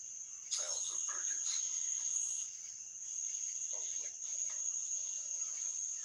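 Crickets chirp in a constant high-pitched trill that runs through the whole scene, with faint rustling and scattered brief sounds underneath.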